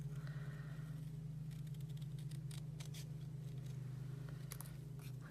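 Scissors snipping around the tassel of a handmade paper hat at a crafting table, a run of short crisp cuts in irregular bursts over a steady low hum, close and fairly quiet.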